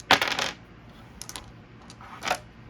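Plastic board game dice from Mutant Chronicles: Siege of the Citadel clatter onto a table in a sharp burst, settle, then rattle briefly twice more, close and moderately loud with no talking.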